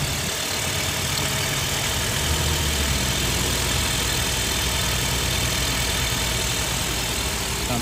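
A 2003 Nissan Altima 2.5 liter four-cylinder with automatic transmission idles under the hood, a steady, even engine drone heard close by without interruption.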